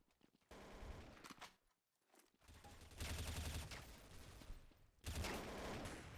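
Rapid automatic gunfire rattles in the Counter-Strike: Source video game, with dense bursts of shots broken by a brief lull and then resuming loudly.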